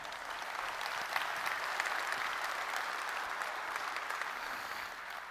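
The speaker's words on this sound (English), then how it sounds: "Round of applause to everyone who made this event possible." Keynote audience at the Data + AI Summit applauding, a broad steady wash of many hands clapping in a large hall, even and sustained throughout with a slight fade at the close.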